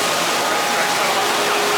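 Dense, steady roar of industrial machinery fills a massive Woodpeckers manufacturing plant, a constant broadband rumble with a faint tonal hum.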